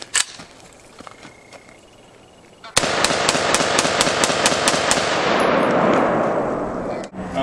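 Rapid gunshots ring out in a quick, evenly spaced string of about a dozen loud, close cracks after a quieter stretch, ending with one final shot.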